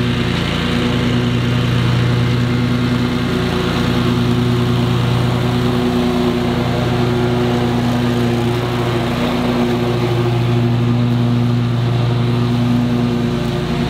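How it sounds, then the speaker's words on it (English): A Scag V-Ride 2 stand-on lawn mower runs steadily and loudly up close, its engine drone holding even for the whole stretch with no talking over it. "This is actually a pretty sweet lawnmower."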